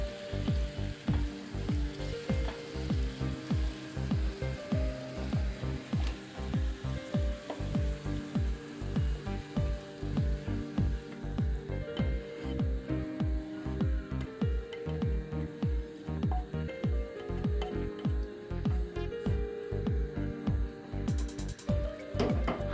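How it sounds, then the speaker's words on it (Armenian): Tomato frying in a pan for a barley soup, a steady close sizzle with bubbling and crackling throughout, no voices. "Ավելացրեցինք նաև տոմատը, սա նույնպես կթողնենք միասին մի փոքր տապակվի"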